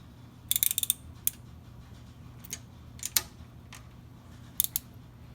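A wrench works a threaded bolt loose on a 1967 Chevelle SS build, giving a few sharp metallic ratchet clicks in short bursts, close and fairly quiet over a steady low shop hum.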